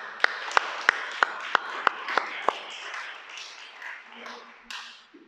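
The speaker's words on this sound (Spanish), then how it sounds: "Vamos a darle un aplauso." An audience at a Torah teaching claps eight sharp, evenly spaced times, each close and crisp, before the clapping stops and soft murmuring and room noise remain.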